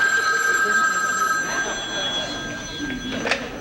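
A telephone rings indoors on a Carol Burnett comedy sketch set, its bright electronic trill sounding steadily and close for a few seconds, with faint voices and small movements underneath as the ringing continues.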